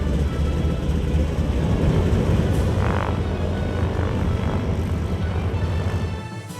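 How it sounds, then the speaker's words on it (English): A World War II Lockheed Model 18 Lodestar (C-60) propeller cargo plane drones loudly and steadily at close range at an airshow, a deep rumbling hum that fades slightly at the very end. "rare C-60 or Lockheed Model 18 Lodestar cargo plane from World War II"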